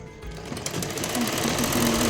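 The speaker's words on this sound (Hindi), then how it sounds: "अब हम इसकी सिलाई करते हैं।" A sewing machine runs continuously while stitching fabric for a salwar belt, a close, steady mechanical whirring and rapid needle rattle that grows slightly louder over the couple of seconds, with no speech.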